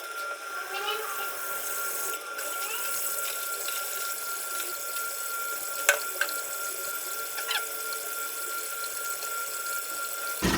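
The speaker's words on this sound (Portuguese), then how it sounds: "Vamos adicionar o restante da água." Remaining water poured into a beer brewing pot during a homebrew American Wheat batch, a steady continuous splashing rush lasting throughout at close range, with a few brief clinks over it.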